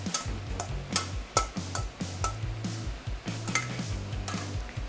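Arugula salad tossed with vinaigrette in a bowl, producing a steady run of quick light clinks and ticks from utensils against the bowl, close up and continuous with no talking.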